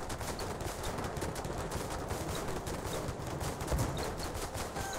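Rapid, continuous gunfire from airship guns in the game Airships: Conquer the Skies, a dense rattling barrage of repeated shots held at fairly even loudness for the whole stretch, with no voices.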